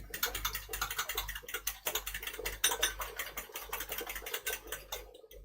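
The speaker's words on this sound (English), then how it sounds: "Beat the eggs together." Eggs are beaten together in a bowl with a utensil rather than a whisk for a burger mix: a fast, continuous clatter of rapid tapping strokes, close and steady, with no talking.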